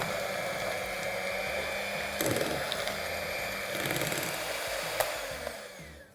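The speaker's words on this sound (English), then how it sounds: "So now I'm going to start whisking this as well." An electric beater whisks tiramisu cream mixture in a bowl, a steady loud motor whir with rattling bursts as the beaters knock against the bowl.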